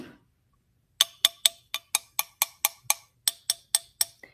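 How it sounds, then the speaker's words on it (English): A cracked Japanese ceramic figurine with a hairline crack is tapped about fourteen times in a steady rhythm, each a short, close, dull clink with no ring, after a second of silence. "If you find a piece of ceramic and it has a weird sound like this"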